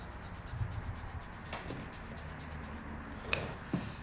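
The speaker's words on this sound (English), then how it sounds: "The glue is heat adhesive, so I have to rub it on." Heat-activated adhesive kinesiology tape being rubbed onto the skin of the lower leg during a chiropractic session, a soft continuous rubbing swish with a few brief scrapes, close and alone.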